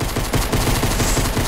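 Rapid gunfire in the Fortnite video game rattles loudly and without a break in dense automatic bursts. The shots are close and fill the whole stretch, with no talk over them.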